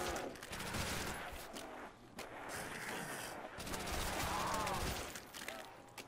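Rapid bursts of Thompson submachine gun fire in a zombies video game on a custom tropical island map, dense repeated volleys with brief gaps, fairly quiet overall and no talk.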